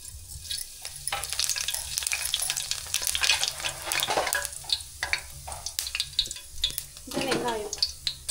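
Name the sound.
fennel seeds added to hot oil, sizzling for crab gravy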